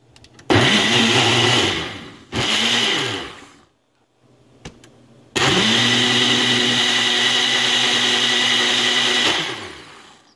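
Kitchen blender whirring through purslane and cucumber juice in loud bursts, a short run, another brief pulse, a near-silent pause, then a long steady blend that winds down at the end.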